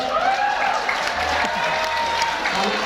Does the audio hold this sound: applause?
yes